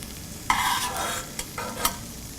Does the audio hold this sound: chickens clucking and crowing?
no